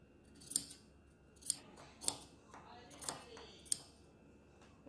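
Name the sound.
scissors cutting out a fabric collar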